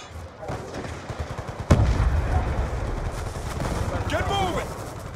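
Gunfire in the video game Black Ops 2 on Plutonium, a sharp loud shot followed by dense rumbling game noise with more muffled firing, while a voice speaks briefly.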